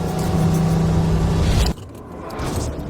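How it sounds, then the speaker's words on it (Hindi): A $30 million car driven at full speed, a loud close engine roar and rushing rumble that cuts off abruptly, leaving a lower, quieter rumble that swells slightly again. "बो बॉकमैन ने इस 30 मिलियन वाली कार को इसकी फुल स्पीड में चलाया"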